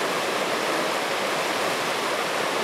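Fast-flowing creek water rushing over exposed bedrock at a gold-prospecting spot, a dense, steady, loud broadband roar close by with no pauses and no voices.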